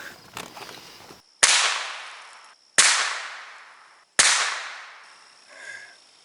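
A 1967 Cooey Model 64 .22 rifle fires three sharp shots outdoors, evenly spaced about a second and a half apart, each crack loud and followed by a short fading echo.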